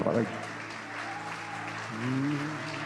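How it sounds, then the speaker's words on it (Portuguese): Applause rises in a church service, a steady crowd clapping under ongoing talk and singing, with a voice becoming louder near the end. "Pode aplaudir a ele."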